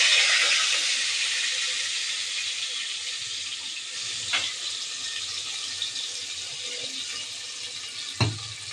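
Onion and garlic paste frying in oil in a pot of biryani spices gives a steady, bright sizzling hiss that fades slightly over time, with a couple of sharp clicks from the pan near the middle and end.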